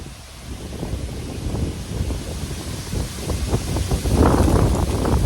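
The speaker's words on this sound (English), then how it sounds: "Oh, it is windy." Steady wind buffeting a microphone outdoors, gusting louder toward the end, with no voices.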